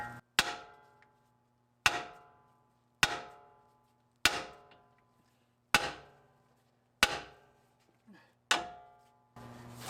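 Seven sharp metallic hammer blows ring out at roughly even intervals while a part is knocked loose on a 2015 Dodge Ram 1500 EcoDiesel during airbag replacement, each strike clanging and decaying quickly in a quiet space.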